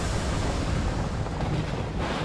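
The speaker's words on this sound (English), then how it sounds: "Imminent attack incoming. 2 seconds to Soul Cannon impact." Soul Cannon impact explosion in the video game FUGA: Melodies of Steel 2, a loud sustained roaring blast that fills the short stretch with dense rumbling noise and no voices.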